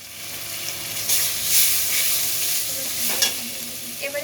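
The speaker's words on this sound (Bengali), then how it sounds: "লঙ্কা গুঁড়ি আর স্বাদ মতো লবণ দিয়ে খুব ভালোভাবে নাড়িয়ে নেব।" Chili powder and salt stirred and frying in a pan for an egg curry, a steady close sizzle with scraping spoon strokes and a few louder stirring bursts, no talk.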